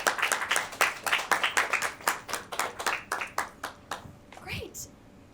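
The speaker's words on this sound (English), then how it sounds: "Let's give another round of applause to our filmmakers" At a comedy film festival, an audience claps for the filmmakers. The sharp individual claps come in a steady run for about four seconds and thin out toward the end, followed by brief voices.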